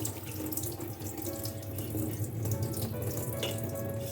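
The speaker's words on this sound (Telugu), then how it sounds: "ఇలా సైడ్కి పైప్ ఇలా పోసుకొని కడుక్కుంటే కింద ఇసుక రాదు మనకి" Tap water runs steadily in a sink while fenugreek leaves are washed under it, a continuous close splashing rush with no pauses and no talking.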